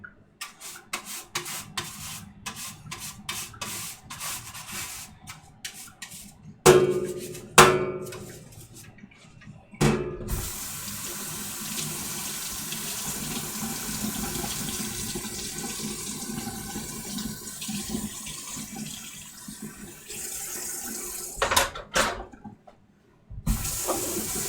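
Kitchen tap water runs steadily while whisks and strainers are washed in a sink, a continuous rushing flow with occasional louder splashes and clatters, no voices.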